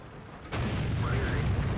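A KV-5 tank's cannon fires in World of Tanks with one sudden heavy boom that rolls into a sustained rumble, while a commentator talks over it.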